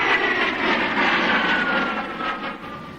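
A-6 Intruder military jet flying, a loud steady roar with a whining tone that slowly fades toward the end.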